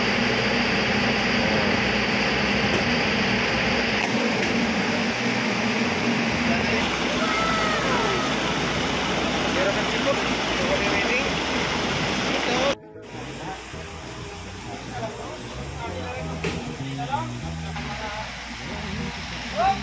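Water gushes and sprays from the pipe of a newly drilled well, a loud continuous rushing hiss that abruptly cuts off, then returns weaker and more irregular, with voices talking over it.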